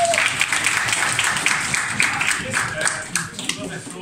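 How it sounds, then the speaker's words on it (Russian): Lecture audience in Kandalaksha applauding, a steady wash of clapping with some voices mixed in, moderately loud and continuous. "Аплодисменты."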